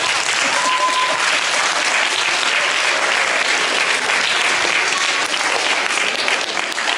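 Applause from an audience at an educational opera lesson: a continuous, even roar of many hands clapping, fairly loud and sustained with no pauses.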